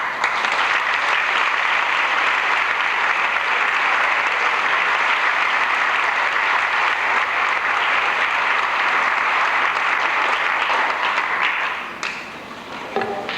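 A graduating class of 1984 at El Rodeo gets a long, dense round of applause from the audience, steady and loud for about twelve seconds before thinning out near the end.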